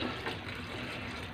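Water pours steadily into a cooking pot with a full, splashing rush, close and continuous.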